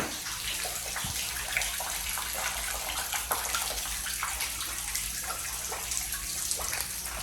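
Floodwater rushes steadily inside a flooded shop, a continuous loud hiss of gushing water with no pauses and no voices.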